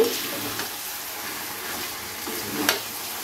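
Chicken pieces stirred into spiced hot oil in a pan for chicken darbari, a steady soft sizzle and frying hiss with faint scraping, quiet and continuous without voices.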